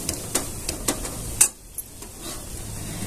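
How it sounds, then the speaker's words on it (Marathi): Ground peanuts are dry-roasted in a pan over a low gas flame with a soft, continuous sizzle and faint hiss. Light scraping and tapping from stirring come through up close, with no talk. "आता शेंगदाण्याचं कूट असं छान असा फ्राय करून घ्यायचा आपल्याला"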